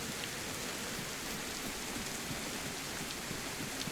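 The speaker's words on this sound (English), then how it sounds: "you think the rain is done and then it's just not" Steady rain pours down in a DayZ survival game, a dense, even hiss of drops on surfaces with no voices and no letup across the stretch.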